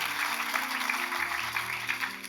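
A dense wash of clapping from a crowd, steady and sustained throughout, with a low hum of voices and tones underneath.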